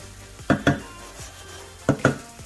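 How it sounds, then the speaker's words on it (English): A spoon stirs celery through cooking raisin rice in a pot, with two pairs of sharp metallic scrapes and knocks against the pan separated by a quiet stretch, close and moderately loud over a faint background hum. "Now I add some celery, continue to mix"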